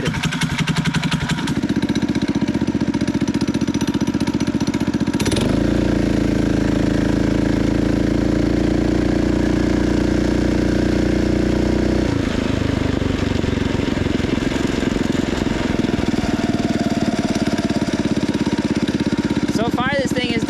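A motorized bike's small engine drones loudly and continuously while riding, its pitch rising and falling as the throttle changes, with wind noise throughout.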